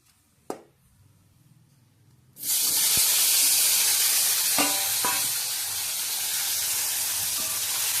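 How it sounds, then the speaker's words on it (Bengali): Potatoes drop into hot oil in a pan and burst into a loud, steady sizzling hiss that carries on continuously, with a small clack just before the frying begins. "এবার আলুটাকে ভেজে নেব।"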